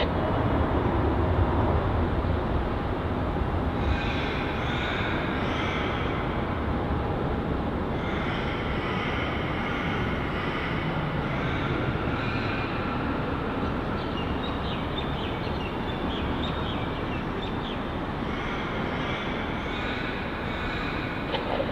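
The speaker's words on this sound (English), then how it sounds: "That was United Airlines Flight 61 heading off to San Francisco, the Boeing" A United Airlines Boeing 787-9 Dreamliner takes off from Melbourne Airport, a steady broadband jet roar that stays loud and continuous throughout, with faint higher whining tones rising and falling over it.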